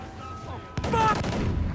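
Ship cannons firing in a naval battle in the video game Assassin's Creed IV: Black Flag: a sudden loud boom cuts in over a low rumble, followed by a dense, roaring volley that keeps rolling on.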